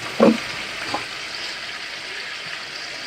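Water hits a pan of browned chicken meat with a loud hissing burst, then settles into a steady, even sizzle that continues alone to the end.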